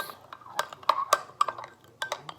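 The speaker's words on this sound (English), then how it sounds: "and then you stir it until you think it's enough" A spoon clinks against the inside of a glass while stirring cold cocoa, a quick irregular series of bright taps and scrapes, close and fairly quiet, with no talk.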